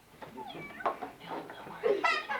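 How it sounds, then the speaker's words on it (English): Several drawn-out meows from a cat in a home at a child's birthday, rising and falling, with the loudest cry near the end, mixed in with overlapping voices nearby. "Is that a kitty?"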